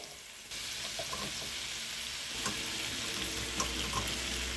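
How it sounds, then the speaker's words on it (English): Potato fries in a pan with spices, a continuous close sizzle that jumps in level after a brief start and keeps crackling steadily, with occasional stirring clicks and no voices. "Add potato. Fry a few seconds."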